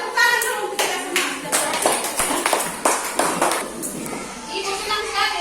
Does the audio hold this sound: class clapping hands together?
yes